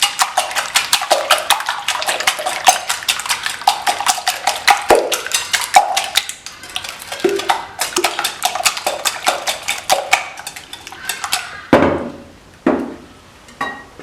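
Eggs for a muffin batter are whisked briskly in a bowl: a long run of fast, even clicking strokes, close and loud, slowing into a few separate knocks and taps near the end.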